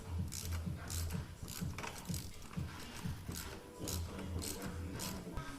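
Ratchet wrench clicking in quick repeated bursts while tightening a coilover from the top on a Ford Fiesta Mk7.5, close and steady with brief pauses between strokes.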